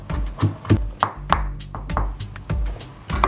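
Ginger being finely minced with a knife on a chopping board, a run of about ten close, fairly even thunking chops with small irregular gaps and no voices.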